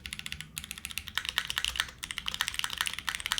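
Fast, clattering keystrokes on a mechanical keyboard, a close, steady run of crisp clicks with a brief pause early on.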